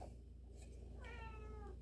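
A single drawn-out cat meow, fairly faint, over a low steady hum in a quiet room.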